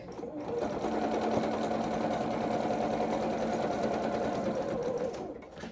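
Sewing machine stitching a leg seam on doll coveralls: a steady, close, rapid mechanical whirring hum running continuously for several seconds, then stopping at the end.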